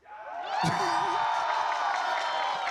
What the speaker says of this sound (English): can we get a round of applause for this AWOL?